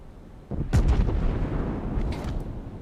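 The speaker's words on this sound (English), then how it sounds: "Concentrate fire on the enemy warship." Heavy naval gunfire from warships in the World of Warships video game, a deep booming salvo that bursts in after a quieter rumble and rolls on in a sustained, dense roar.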